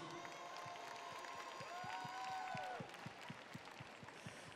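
Audience at a Miss Alsace 2022 pageant applauds a 24-year-old candidate from Mulhouse, a steady patter of clapping with rhythmic beats and a sustained tonal sweep over it, moderately loud and continuous.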